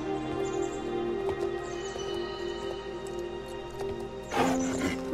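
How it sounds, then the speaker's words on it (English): A horse moves at a walk, its hooves clip-clopping steadily and fairly near, with some rustling and birds chirping faintly in the background. "look, I have my horse"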